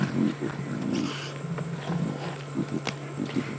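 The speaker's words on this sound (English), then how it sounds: "Getting a deep growl from Mom there." A lioness at a carcass on a safari drive lets out a deep, rumbling growl that rises and falls continuously through the moment, close and fairly loud, with no talk over it.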